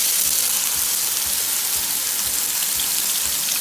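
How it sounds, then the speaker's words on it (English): Blended onion paste frying in a small amount of hot oil: a loud, continuous close-up sizzle and crackle with soft low bubbling underneath. "We're going to fry this until it is golden brown."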